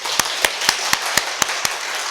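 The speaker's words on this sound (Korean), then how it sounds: "한번 다시 박수 치겠습니다." Korean Sunday church congregation clapping together in a steady rhythm, about eight sharp, evenly spaced claps roughly a quarter second apart, standing out over a dense hiss of room noise with no talking.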